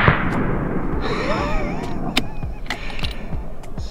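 Hunting rifle shots fired at kudu, heard as several sharp, separate cracks spread over a few seconds over outdoor background noise, each distinct and fairly close.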